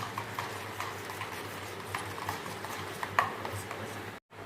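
Spoon stirring a homemade chocolate ice cream mixture in a bowl, soft repeated scraping and light knocks in a steady rhythm, close and fairly quiet, ending in a brief drop to silence.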